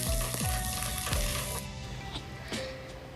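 Chicken sizzles loudly as it fries in a pan for an Erode-style spicy chicken dish, a steady hiss broken by a few scraping stirs of the spoon, with no talking.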